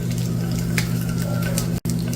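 Tuna patties frying in a pan give a soft, continuous sizzle and crackle, close and steady, with a brief dropout near the end.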